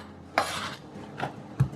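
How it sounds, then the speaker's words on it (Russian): A knife cutting bell pepper into cubes on a board while vegetables are prepared for a zucchini dish. There are three separate chopping strokes, the first longest, each a short scraping thud, close and moderately loud. "Режу болгарский перец, тоже кубиком"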